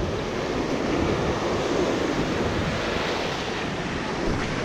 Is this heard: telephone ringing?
no